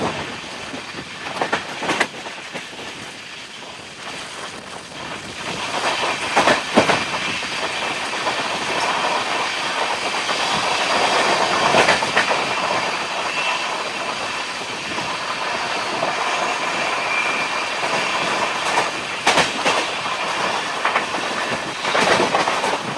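Inside an AC 2-tier coach of the Howrah–SMVT Bengaluru SF Express, a steady rumble of wheels on track carries on throughout, broken by repeated clickety-clack bursts over rail joints, with no voices.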